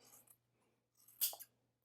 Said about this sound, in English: with these scissors, I find that it just cuts through so nicely